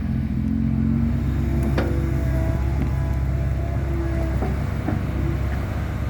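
A long-reach excavator's diesel engine runs steadily at moderate, not fully revved, throttle while levelling a rubber plantation into rice paddy ground, giving a continuous low rumble with faint clanks and no talk.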